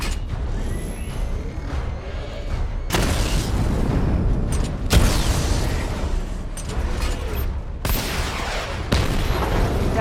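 A missile barrage fires in Batman: Arkham Knight, with several sharp booming launches spaced a few seconds apart over dense, rumbling mechanical noise, loud and close.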